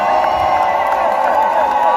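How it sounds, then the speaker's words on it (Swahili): A large crowd at a Kenyan public event cheers and shouts continuously for Deputy President Kindiki at a steady, fairly loud level, a sustained roar of many voices. "Let's also take this opportunity to give a warm round of applause to the Deputy President, Professor Kindiki."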